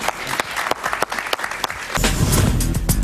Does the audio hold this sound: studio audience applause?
yes